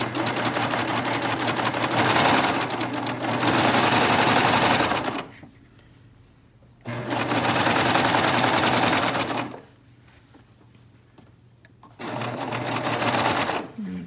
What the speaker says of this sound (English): So I've got the wide cover stitch in. Like I said, we're cover stitching in the round.